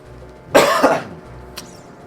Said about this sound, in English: coughing outside of the mic, like turning backwards instead of coughing right in the mic